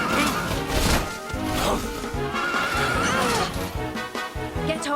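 A horse in Dragon Quest XI: Echoes of an Elusive Age whinnies loudly and close, with a brief clatter of hooves and a few thuds around it.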